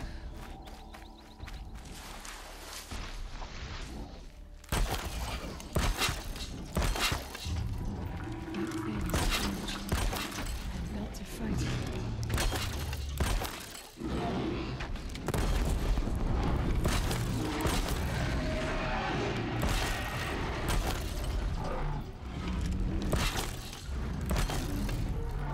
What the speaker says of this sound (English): There we go, explosions mania.